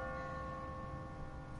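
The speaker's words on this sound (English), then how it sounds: "What kind of church bell goes off at 20 past the hour?" An automatic church bell on a timer rings in a video game, a steady sustained metallic tone with no talking over it.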